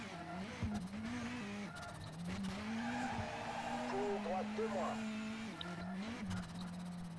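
Rally car sliding and skidding on a Monte Carlo stage in the WRC 5 racing game, a continuous engine drone with tire squeal as the car loses grip, a voice talking over it.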